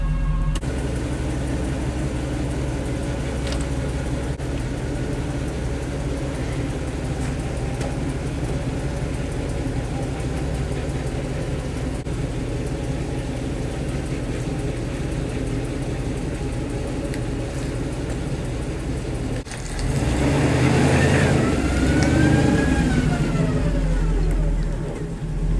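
Chevrolet K1500 pickup truck driving forward with a broken drivetrain, producing a long, steady mechanical rumble and grinding drone that turns louder and rougher near the end as the engine revs, heard close up.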